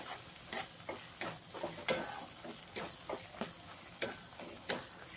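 Paneer masala with a spoonful of dried fenugreek leaves being stirred in a pan, a series of scraping spoon strokes about every half second to second over a faint background sizzle, no voices.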